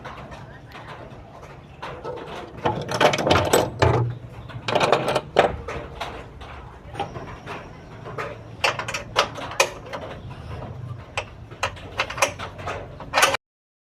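Clanks, scrapes and ratchet clicks come from removing the bolts of a car's radiator fan during a do-it-yourself radiator replacement. The metallic knocks and taps are close and irregular, with voices partly heard in the background.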